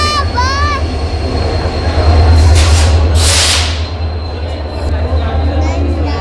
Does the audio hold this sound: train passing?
yes